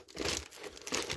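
Packaging from a Corsair K55 PRO RGB keyboard crinkles and rustles during unboxing in a brief, close burst of plastic or paper handling.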